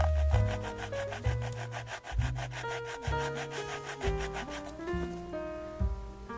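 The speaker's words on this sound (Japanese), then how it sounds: "屋根板との間の隙間を表現するスペーサーを削り取ります" A white metal spacer is scraped off a model train roof ventilator part, a close, rhythmic rasping of short strokes in steady succession, alone.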